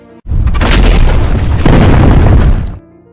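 A German tank fires back in a World War II battle, one huge, loud, close boom rolling into a sustained roar for over two seconds before cutting off abruptly.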